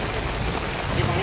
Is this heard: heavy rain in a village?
yes